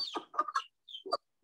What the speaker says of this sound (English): Now, these are my bantams.